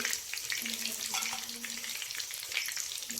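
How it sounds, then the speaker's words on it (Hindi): Vegetable pakoras bubble in hot oil with a soft, continuous crackling sizzle, close but fairly quiet, with no voices over it. "तो पकौड़े हमारे देखें फ्राई हो चुके हैं।"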